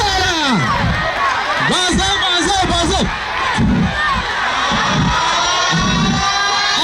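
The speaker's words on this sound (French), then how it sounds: "Applaudissez pour lui" A crowd at an album launch concert shouts and cheers loudly, with whoops and excited voices and some rhythmic thumps, a voice also speaking through the noise.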